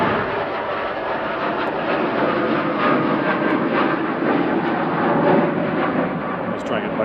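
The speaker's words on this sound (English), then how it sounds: "Heading back to Doha now is Qatar Flight 24, 787-9, 7BHJ." A Qatar Airways Boeing 787-9 at Manchester Airport makes a loud, continuous broadband jet engine roar, steady throughout and heard alone.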